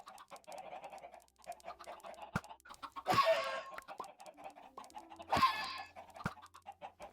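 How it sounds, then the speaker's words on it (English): Minecraft chickens cluck in short repeated bursts, with two louder hurt squawks standing out, moderately close and otherwise quiet. "sound of dying chickens"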